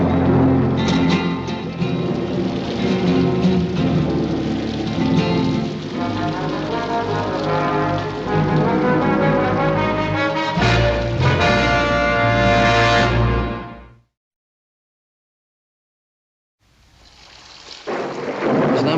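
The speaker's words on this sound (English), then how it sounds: "There's not much of a rain, but it sure came up fast." A sudden rainstorm with loud thunder fills the first fourteen seconds, heavy rumbling and rain that cuts off to silence before the storm swells back in.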